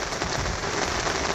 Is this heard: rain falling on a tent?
yes